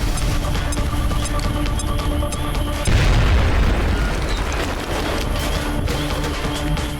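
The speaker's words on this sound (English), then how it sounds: "So, we're gonna grenade him. To blow up his cover." Grenade blast in the video game XCOM: Enemy Within, a heavy booming explosion landing partway through over a dense, continuous bed of game sound and effects.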